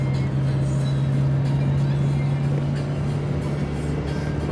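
A car drives along a road in Mexico, its steady, droning engine and road hum heard from inside at an even level throughout.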